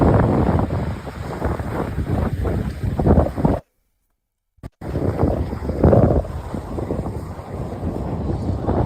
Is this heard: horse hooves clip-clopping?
no